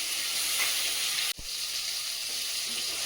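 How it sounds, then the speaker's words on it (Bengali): Fish pieces fry in oil in a kadai, a close, steady sizzle with one brief clunk of a utensil partway through, and no speech. "মাছগুলো ভাজা হয়ে গেছে, তুলে নেবো।"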